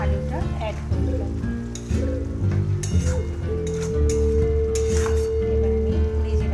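Fried potatoes tipped into a hot pan for a potato-and-prawn curry and stirred, giving a steady close sizzle with occasional clinks and scrapes of the spoon while a voice talks over it.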